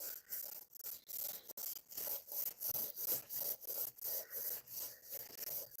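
A Scotch-Brite pad scrubs the cast iron mating surface of an engine cylinder head in quick back-and-forth strokes, each one a close, gritty rasping swish, about a dozen in a steady rhythm with no voice over them.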